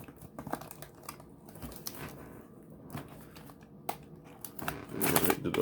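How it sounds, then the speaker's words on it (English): A blade slices through packing tape sealing the box of a Boss Audio 480BRGB double-DIN Bluetooth media player, giving scattered close crinkles and scratchy taps that grow busier and louder toward the end. "I'll just cut this little piece of tape right here"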